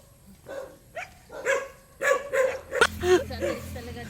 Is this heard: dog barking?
yes